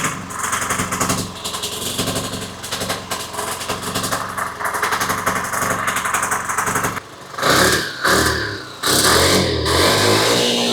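A 1983 Yamaha Riva 180 scooter engine, suffering a gas leak and hard starting, revs loudly at full throttle with a buzzing, high-pitched drone, then breaks into a few sharp, uneven blips and bursts near the end.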